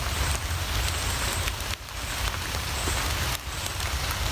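Heavy rain pours outdoors at a wilderness survival camp, a dense steady hiss of drops on surfaces close by, with two brief dips in intensity and no talking.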